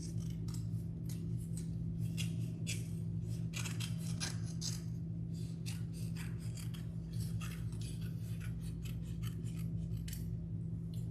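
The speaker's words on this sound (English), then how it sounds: "I'm just going to cut some strips of paper." Scissors cut strips of construction paper for a craft, a quiet run of close, repeated snipping and rasping blade strokes at an even rhythm, with no talking.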